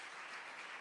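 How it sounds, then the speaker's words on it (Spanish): A church congregation applauds during a worship service, a steady dense wash of clapping filling the whole moment without pause. "Fuerte ese aplauso al Señor."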